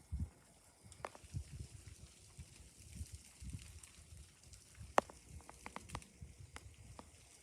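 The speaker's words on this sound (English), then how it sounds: "You can hear all the crackling of the ice in the trees behind me." Ice-coated trees after overnight freezing rain give off faint, scattered crackles and sharp ticks, irregular and distant against a quiet outdoor background.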